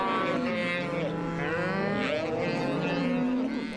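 Beef cattle on a high-desert Oregon ranch moo loudly and continuously, several overlapping low bellowing calls filling the whole stretch up close, with no talking.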